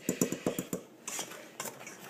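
Ingredients for brownies, sugar and egg, being mixed in a bowl: a quick run of sharp utensil clacks against the bowl, then a brief pause and a few softer scrapes and taps, close and fairly quiet.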